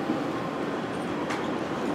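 An E257 series express train runs steadily, a continuous rumbling roar from inside the car with a brief faint squeal partway through.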